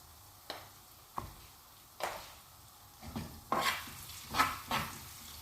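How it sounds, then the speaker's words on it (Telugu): A spoon scrapes and stirs golden-brown fried onions mixed with turmeric in a pan, several sharp scraping strokes at irregular intervals over a low sizzle, growing louder and busier toward the end, with no talking. "ఇప్పుడు దీన్ని బాగా మిక్స్ చేసుకుందాం."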